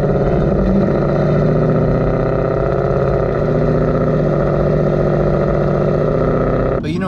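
A 2018-2019 Mustang GT with Corsa headers, Double Helix X-pipe and active exhaust driving in normal mode, with a loud, steady low engine drone throughout and a voice talking over it.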